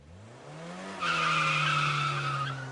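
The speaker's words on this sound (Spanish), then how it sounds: "¿Qué pasa con su cuerpo al escuchar un frenazo y usted está en una moto?" A vehicle brakes suddenly behind a motorbike rider, tyres skidding and screeching loudly for over a second after a rising engine note, close and alone.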